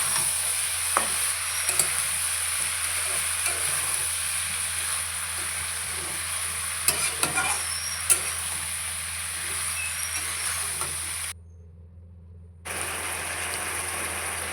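Prawns, yardlong beans and potatoes sauté in a pan with a steady, close sizzle and occasional scraping clicks of a utensil; the sound cuts out briefly near the end, then resumes.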